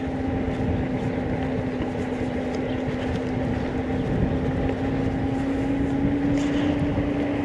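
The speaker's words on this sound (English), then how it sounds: "Here we go into the steep stuff" VMAX VX2 Extreme GT electric scooter climbing a steep grade at full throttle, a continuous steady motor whine with a slowly rising pitch, mixed with dense wind and road rumble throughout, no speech.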